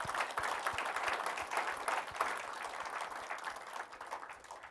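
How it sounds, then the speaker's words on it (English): A roomful of guests at a startup portfolio evening applauds founders and panelists, a dense, even wash of clapping that holds steady and slowly thins toward the end. "If we can all please give them a huge round of applause."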